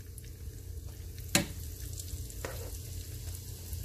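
Thin chicken cutlets fry over medium-high heat in olive oil, vegetable oil and butter, a steady close sizzle with a sharp crackle burst partway through and a softer hiss after, no talking.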